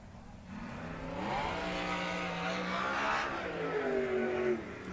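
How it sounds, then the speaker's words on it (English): A race car circles the Heart O' Texas Speedway track, its engine revving in a steady rising drone that swells and holds loud for several seconds, with the pitch climbing then easing off, no voices present. "Blake Mallory out on the racetrack"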